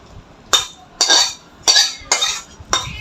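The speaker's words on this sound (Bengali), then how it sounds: "এখন আমি মাংসটা ঢেলে নেব।" Five sharp metallic clinks of a utensil against a pot while cooked chicken curry with potatoes is served out, evenly spaced and fairly close, with no talking.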